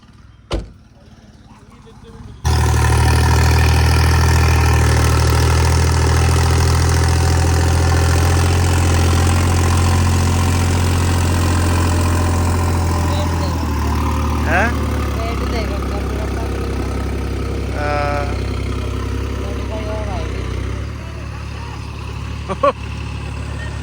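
A modified New Holland 5620 4x4 tractor engine starts and settles into a steady, deep, loud idle, with faint knocks and a voice heard briefly near the end.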